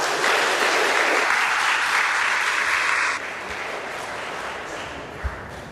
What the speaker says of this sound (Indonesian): Tepuk tangan dong kalian semua.